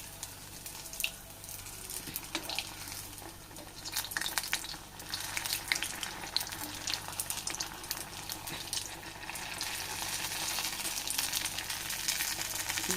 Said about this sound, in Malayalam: തിരിച്ചും മറിച്ചൊക്കെ ഇട്ട് നമുക്ക് ഫ്രൈ ചെയ്തെടുക്കാം കേട്ടോ.